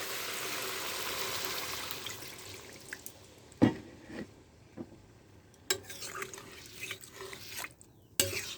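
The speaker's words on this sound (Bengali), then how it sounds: "পরিমাণ মতো জল দেবো" Water runs from a tap and splashes into a cooking pot while fish with turnip or kohlrabi is being prepared; a steady close hiss at the start fades into scattered drips and clinks against the pot.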